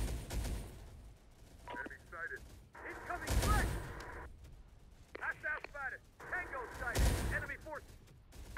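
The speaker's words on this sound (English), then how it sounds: "Oh, artillery already shooting." Artillery fires in the Terminator: Dark Fate Defiance strategy game, two heavy booming blasts a few seconds apart under steady talk and game sounds.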